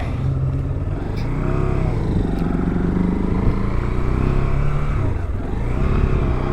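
A 2025 Keeway RKS 125 motorcycle riding along at steady speed, its engine droning close and constant with slight rises and dips in revs and a faint clatter, no voices over it.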